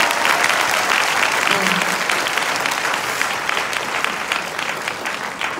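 Seminar audience at a one-night Hyatt event clapping loudly and steadily throughout, a dense sustained applause that tapers only slightly toward the end.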